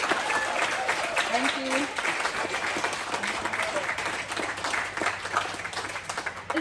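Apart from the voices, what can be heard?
audience clapping for Pauline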